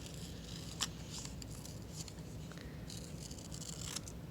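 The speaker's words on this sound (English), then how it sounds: "I'm going to cut that out." Scissors cut a petal shape from paper in a few close, soft snips and rustles, faint over a quiet room background.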